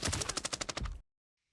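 Rapid automatic fire from an MP5 submachine gun in the shooter game Arena Breakout: a single close, loud burst of about a dozen evenly spaced shots that cuts off abruptly into silence.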